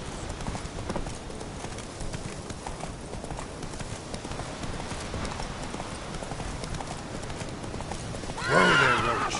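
Roach, Geralt's horse in The Witcher 3: Wild Hunt, gallops with rapid, continuous hoofbeats close by, and a loud whinny breaks out near the end.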